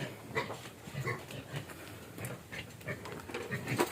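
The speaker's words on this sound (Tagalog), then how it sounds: "nagsibangag na ang baboy ni Alcyon" Pigs grunting and squealing in short, irregular bursts at moderate distance, with snuffling and shuffling between calls and no clear talk.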